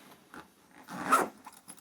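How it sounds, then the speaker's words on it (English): A zipper is drawn along a soft case for a cello or bass, heard as a short raspy pull that swells to a louder burst near the end, close and alone with no talk. "Zipping both zippers all the way to the end pin"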